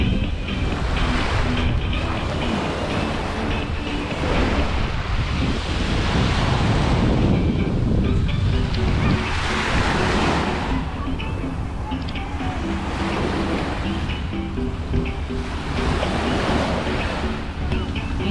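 Ocean surf rolls in repeated loud waves at the shore beside the Burj Al Arab in Dubai, with steady wind buffeting the microphone throughout; no clear talk.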